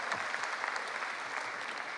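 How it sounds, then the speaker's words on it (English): An audience at an International Youth Day event in Kigali claps in a dense, even patter of applause that fills the whole moment, steady in level without a clear rise or fade. "Round of applause."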